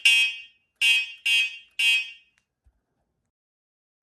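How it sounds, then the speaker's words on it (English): Electronic horn on a Wing Freedom Fatty 2 electric bike: four short, shrill electronic beeps, the first on its own and the other three in quick succession, close and alone before silence. "And this is how the electronic horn sounds like."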